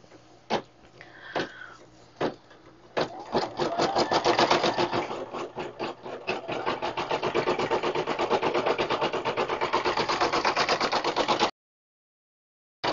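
A Brother PE 770 embroidery machine runs a quilting stitch on an in-the-hoop Christmas banner, starting with a few separate needle strikes and then settling into a steady, loud, rapid mechanical chatter that continues before cutting off abruptly.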